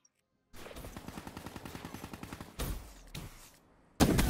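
A nail gun fires in the shooter video game Black Ops 3, a fast run of sharp rhythmic shots that ends in louder blasts, close and loud with no talk.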